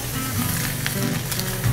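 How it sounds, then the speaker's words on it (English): Mushrooms and andouille sausage sear in a hot pan with a loud, continuous sizzle and crackle up close. "I'm also going to add my mushrooms at the same time. The mushrooms are going to cook for as long as you want that andouille to"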